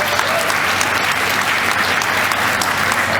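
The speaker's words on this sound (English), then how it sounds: "Let's give them a big round of applause." An audience at a society breakfast program claps steadily, dense and loud applause filling the room without a break.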